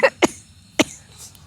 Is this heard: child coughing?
yes